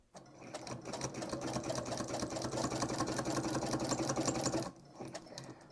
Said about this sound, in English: And then we're going to sew right up to that pin.